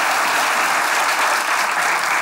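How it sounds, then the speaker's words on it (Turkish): Loud, dense applause from a comedy show's studio audience, steady clapping throughout with no pauses and no talking. "Kocaman alkışlar"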